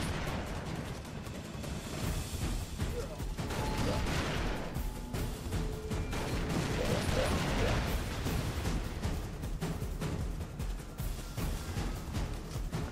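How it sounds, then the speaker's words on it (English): An airstrike called in by a character in the video game Broforce, a continuous barrage of explosions and rattling fire sustained loudly throughout, with faint talk. "He called in an airstrike."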